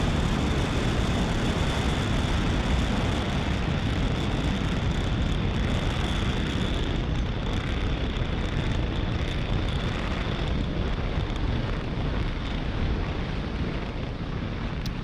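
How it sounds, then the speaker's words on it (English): A SpaceX Falcon 9 lifts off from pad 40, its Merlin engines giving a loud, continuous broadband roar that rumbles and crackles without letup, with no voices over it. "Falcon 9 has successfully lifted off from pad 40."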